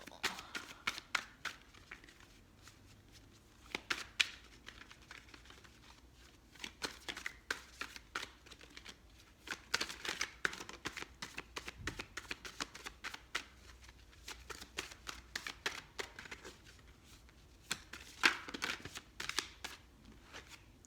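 Tarot cards being shuffled over and over, a steady stream of close, crisp riffling and flicking with small taps and pauses, fairly quiet and with no talk throughout.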